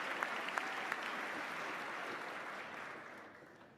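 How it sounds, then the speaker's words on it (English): An audience at a Massachusetts State of the Commonwealth address applauds for Nobel winners. The clapping is dense and sustained with a few sharper claps near the start, then slowly fades toward the end. "I'm glad you're cheering for our Nobel winners."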